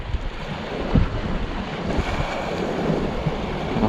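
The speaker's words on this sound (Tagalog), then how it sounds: "Lakas ng alon." Strong sea waves surge and wash nearby under gusting wind that buffets the microphone while fishing, with a continuous rough roar and occasional thumps.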